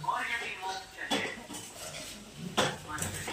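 Kitchen clatter of a mother cooking, with pots and dishes knocking and clinking in a few sharp bursts over low household background, moderately near.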